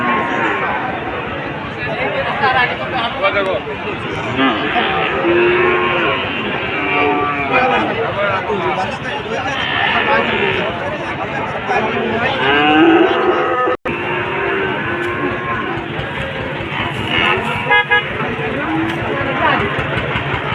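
Cattle low repeatedly amid a busy, crowded cattle market, their drawn-out moos rising over constant chatter and haggling voices throughout.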